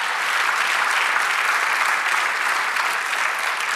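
A church congregation claps during a sermon, a dense, even wash of applause sustained for nearly four seconds with no voices standing out.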